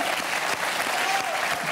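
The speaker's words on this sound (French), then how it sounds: "Ça s'applaudit." Concert audience at a singer's show giving a burst of dense, loud applause, continuous and close for the whole short stretch, celebrating thirty years on stage.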